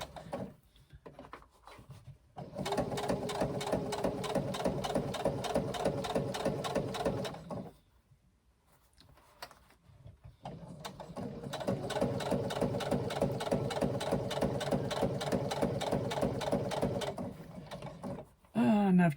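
A sewing machine stitches leather for a laptop bag in two long mechanical runs, a steady rhythmic whirring and clatter of the feed broken by a short pause in the middle, close and moderately loud.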